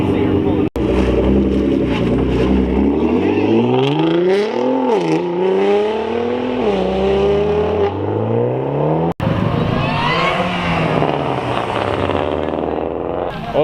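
A Nissan GT-R pulls away from a Minneapolis car meet, its engine revving loudly with rising and falling pitch sweeps close by, two brief sharp dropouts breaking the sound.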